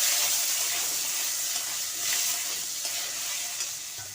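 Potato pieces frying in hot oil spiced with panch phoron, a steady loud sizzle with bubbling hiss and occasional stirring, close and continuous with no talking.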